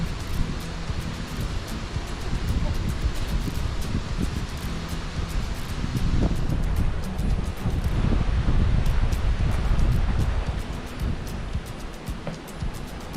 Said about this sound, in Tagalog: biglang nagpasiklab ang hangin